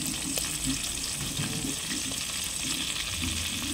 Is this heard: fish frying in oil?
yes